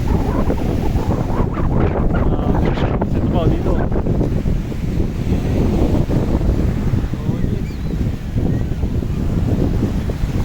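Sea waves and gusting wind at Patungan Beach in Maragondon, Cavite, a steady loud roar with heavy wind buffeting the microphone throughout, while someone talks briefly over it.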